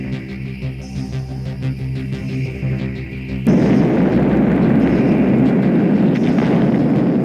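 An atomic bomb explodes during a nuclear weapons test: after a low droning hum, a sudden loud onset opens into a sustained, roaring rumble that stays powerful and steady without talk.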